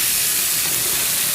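Sliced onion sizzling in a hot pan for Tamil-style dry chilli chicken, a steady loud hiss of frying with no talk.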